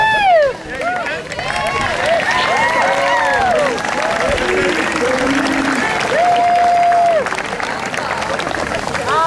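Graduation audience applauding and cheering, a loud dense crowd of clapping with whoops and shouts layered over it.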